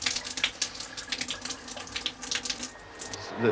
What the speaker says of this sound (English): And then there should be hot water, but you can see it's just a trickle.